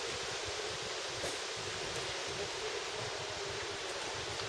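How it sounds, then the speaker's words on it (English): Strong east wind along a shoreline after a summer storm, a loud continuous broadband roar with gusty rushing buffeting close to the microphone, no voices. "the wind is just pumping out of the east now"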